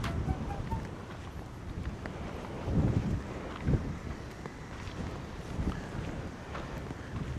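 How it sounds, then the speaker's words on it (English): Steady, strong wind on Jamaica's longest bridge buffets the microphone outdoors, with low rumbling gusts swelling and easing throughout. "The wind is so strong up here."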